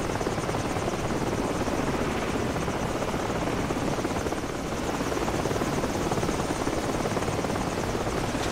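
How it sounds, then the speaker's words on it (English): A helicopter in Call of Duty 4 thunders overhead with a steady, loud rotor roar and whine that fills the whole stretch, holding constant with no gaps and no voices over it. "That helicopter's making another pass."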